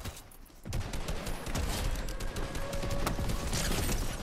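Rapid gunfire and airstrike blasts in Fortnite rattle on in a continuous distant barrage, a steady dense crackle of shots that swells after a quiet start and keeps going to the end.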